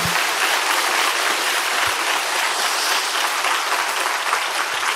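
A church congregation at an early-morning prayer service claps together, giving glory to God in a continuous, even roar of applause that fills the room without a break.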